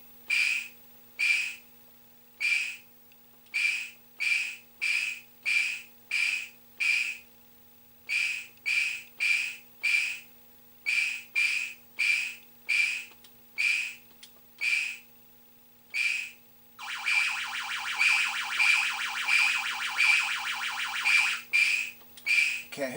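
A 1980 Taito Space Invaders Part II arcade board's sound generator gives off repeated short whistling electronic beeps in a steady pulsing rhythm, then a longer buzzing warbling tone, all fairly quiet with no talking.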